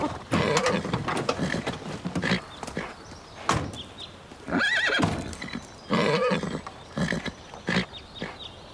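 Horses in a stable neigh and whinny in several loud, close bursts, with snorts and shuffling in between; no speech.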